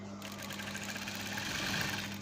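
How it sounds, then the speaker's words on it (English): A sewing machine runs steadily, stitching fabric and lining close up with an even mechanical whir and no pauses, alone without talk. "So this one too, we're going to stitch it"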